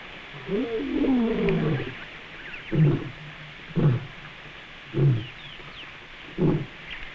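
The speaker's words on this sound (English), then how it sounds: "they had no reason to associate the sound of the roar with my tape recorder" A lion roar played back from a tape recorder in open country: one long rolling roar followed by a slowing series of four shorter grunting roars, moderately loud and slightly distant, over a steady hum of insects.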